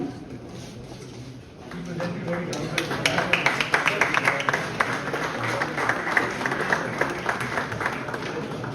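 Scattered audience applause at a university conference valedictory ceremony, beginning softly and swelling into a dense, steady patter of many hands that carries on to the end, with crowd murmur underneath.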